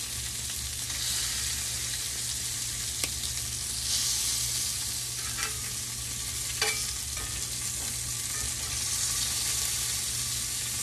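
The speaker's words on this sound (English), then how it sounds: "I sort of want these to look nice and seared, the shrimp and the chicken." Shrimp and chicken sear in a hot cast iron pan with a steady, loud sizzle throughout, broken by a few sharp pops and spatters.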